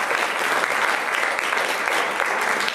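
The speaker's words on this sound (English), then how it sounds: "Round of applause for our candidates." An audience at a 2012 chamber of commerce election forum applauds steadily, a dense even wash of clapping with no talk.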